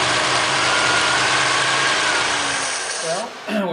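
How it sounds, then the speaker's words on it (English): A 1951 Ford with a swapped-in flathead V8 engine idles steadily with a loud, continuous rumble, and a voice briefly cuts in near the end. "the engine seems to be running pretty good"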